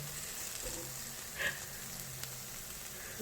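Deodeok root sizzling in perilla oil in a pan, a faint soft steady crackle with a small clink or pop midway.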